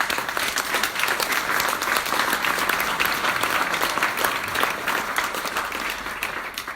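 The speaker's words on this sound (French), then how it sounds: "Je pense qu'on peut aussi applaudir nos jeunes" An audience applauds young participants at a French Lions Club international francophone centres event held with a lycée. The clapping is dense, steady and sustained throughout, with no voices over it.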